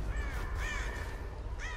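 Crow caws in Rise of the Tomb Raider, three harsh calls spread across a short stretch over a steady low ambient rumble, fairly distinct against the game's background.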